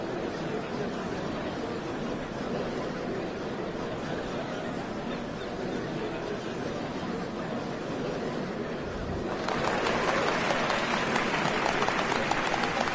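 A crowd in the Final Fantasy XIV video game murmurs and chatters, then breaks into sustained applause that swells toward the end.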